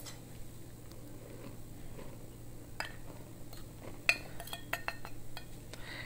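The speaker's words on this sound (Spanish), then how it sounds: "ahora vamos a mezclar la harina con todos los ingredientes" A spoon mixes flour with other ingredients in a bowl for homemade pizza dough, giving quiet scraping and a run of light clinks and taps against the bowl, louder toward the end.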